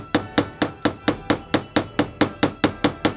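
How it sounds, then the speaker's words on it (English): A hammer peens a cut pin on a Victorinox Swiss Army knife: about thirteen sharp metallic taps, close and evenly spaced in a steady rhythm, with nothing else heard. "I'm going to try to peen the top outside pin."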